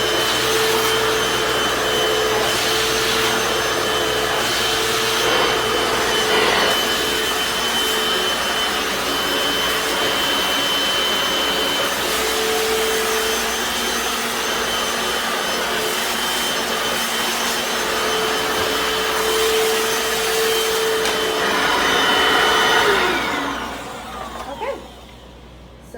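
Hoover FloorMate Deluxe FH40150 wet/dry hard floor cleaner running steadily at close range, a loud continuous motor whine and airflow hiss with brush and suction tones for about 23 seconds before it shuts off and winds down, no talking.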